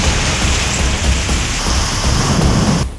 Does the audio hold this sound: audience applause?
no